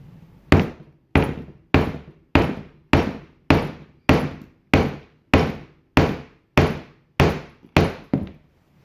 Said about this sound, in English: I'm just going to flatten out the end here until it's about right to fit in the locks that I want.